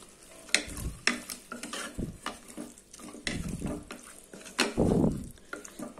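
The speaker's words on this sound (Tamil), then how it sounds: "ஒரு 2 நிமிஷம் நான் சிக்கனை வதக்கிட்டேன்" Around 300 grams of chicken sautés in a pan for chicken pepper rasam, with sizzling, scraping stirs and clanks of a utensil, plus a brief burst of rushing, water-like hiss near the end.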